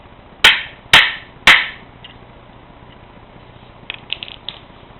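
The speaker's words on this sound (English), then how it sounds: "We're just going to give it one little tap to seat it." Three sharp, evenly spaced metallic taps ring out close by as a part is seated into a Triumph T100R chopper brake backing plate, followed by a pause and a few faint small clinks.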